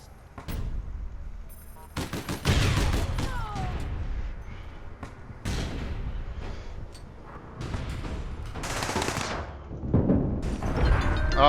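Grenade blasts and gunfire in the online shooter APB: Reloaded, a run of loud crashing bursts and sharp impacts spread through the stretch, with brief quieter gaps between them.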